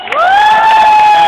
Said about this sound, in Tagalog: Pwede po bang makahingi ng palakpakan po natin na may halong sigaw yung unang banda?